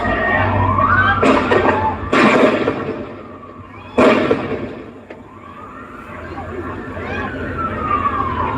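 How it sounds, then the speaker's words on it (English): Fireworks going off outdoors, with several sharp loud bangs at irregular intervals over a noisy background, while people shout and talk nearby. "Fireworks."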